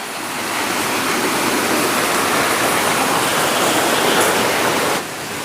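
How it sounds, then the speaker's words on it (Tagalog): Strong water gushes from a spring on a farm plantation, a loud, steady, close roar of rushing flow that holds evenly for several seconds and then drops off abruptly, with no talking. "lakas pa rin ng tubig dito sa sibol natin mga kabayan"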